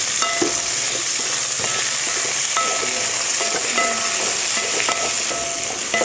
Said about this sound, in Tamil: வெண்டைக்காய் வதக்கிறதுக்கு கொஞ்சம் எண்ணெய் சேர்த்துக்கலாம் எண்ணெய் சேர்த்து வதக்கினா சீக்கிரமா வதங்கிரும்